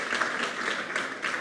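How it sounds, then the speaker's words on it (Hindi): An audience applauds to welcome students at a ceremony held at the Kashi Peetha: dense, steady clapping from a crowd, sustained throughout without a break. "मैं चाहता हूं कि आप सब लोग इनको ताली बजा करके इनका स्वागत करें।"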